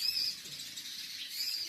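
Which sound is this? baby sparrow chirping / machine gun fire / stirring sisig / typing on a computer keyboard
baby sparrow chirping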